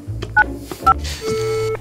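A phone number is dialed at random for a prank call, with two sharp touch-tone beeps followed by a longer held tone, close and clear amid faint background noise.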